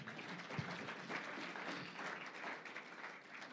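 A church congregation claps for the Lord during a sermon, giving steady, moderately distant applause from many hands throughout with no voices standing out.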